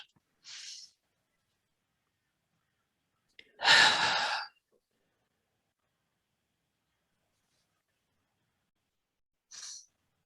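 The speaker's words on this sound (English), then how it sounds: "I invite you to take one more deep breath, in and out." A deep breath in and out at the close of a guided relaxation, heard as a soft inhale, then a louder, fuller exhale a few seconds later, with a faint breath near the end amid quiet.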